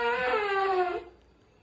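An elephant gives a long, drawn-out yawning groan that slides downward in pitch for about a second before fading out. It is loud and close, with no talk over it.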